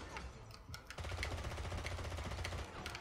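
Rapid gunfire bursts in the video game Blood Stone 007, dense and continuous with sharp crackling shots layered over a low rumble, loud and close.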